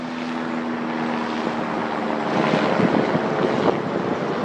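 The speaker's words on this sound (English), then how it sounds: "News helicopter or something going on there." A news helicopter flying overhead in West Sacramento, California: a steady low engine drone with rhythmic rotor-like thumping, loud and continuous, growing slightly stronger toward the end, with wind rumble.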